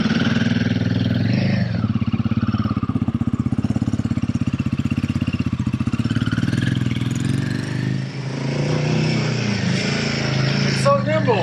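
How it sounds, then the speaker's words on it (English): Royal Enfield Guerrilla 450 motorcycle engine running steadily close by with a low, even throb, loud throughout, revving slightly near the end. "I think I am going to give this back to him and go hop on another motorcycle and go for a ride"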